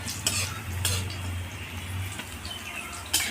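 Bitter gourd slices frying in a pan as Bengali shukto is cooked, a soft continuous sizzle with scattered clinks of a utensil against cookware and a few sharper scrapes.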